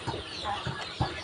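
Chickens about 33 days old cluck in short bursts at a poultry farm, several soft low calls spaced through a moderate background din.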